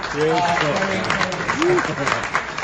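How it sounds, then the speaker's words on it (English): Audience applause at a business strategy presentation in Phuket, a spread of clapping throughout, with voices talking and calling over it. "So I think a round of applause for everyone for the ecosystem."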